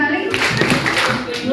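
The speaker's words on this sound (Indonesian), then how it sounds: "Tepuk sekali, tepuk 2 kali, tepuk 3 kali" Group of adults clapping together in a classroom setting during a positive-culture school session, brief rhythmic claps mixed with a voice, loud and close.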